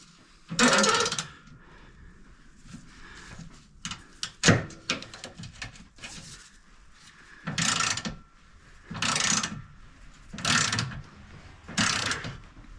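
A hand ratchet winds a bolt back into a Land Rover Discovery 3 during sill repair work, heard as several separate bursts of close, rapid clicking with short quiet pauses in between.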